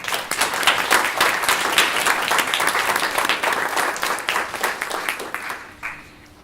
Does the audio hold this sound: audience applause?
yes